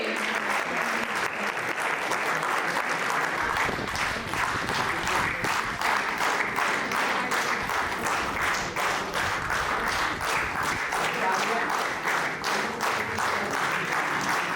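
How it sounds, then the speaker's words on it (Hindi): Sustained, loud applause from a crowd of colleagues at a farewell ceremony for a retiring official at CTI Ranchi, steady clapping filling the whole stretch with no voices over it. "सभी पंचायत सचिव सहकर्मी कृपया जोरदार तालियों के साथ स्वागत करेंगे।"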